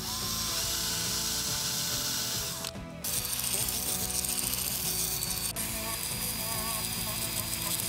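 A drill bores a small recess for a screw head, buzzing harshly and continuously up close, with a brief dip in the noise before the grinding whine resumes.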